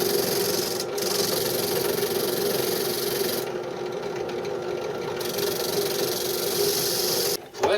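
A sanding drum from a 26-piece kit spins against its sandpaper on a rotary tool, producing a loud, continuous high-pitched motor whine with steady grinding, cutting off briefly near the end.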